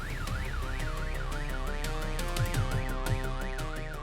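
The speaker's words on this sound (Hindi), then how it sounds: "मैंने रास्ते पर से एक लड़के को पैसे दिए कि वो सुरभि की कार का अलार्म ट्रिगर कर दे।" A car alarm wails in a steady, rapid rising-and-falling sweep, loud and continuous throughout, with a musical score playing underneath.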